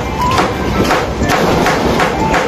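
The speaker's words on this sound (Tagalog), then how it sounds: "Pukpukin natin. Asa ba yung martilyo dyan?" A hammer strikes a glued shoe sole repeatedly, giving a series of roughly five sharp taps spaced about half a second apart. The blows sound close over a constant noisy background.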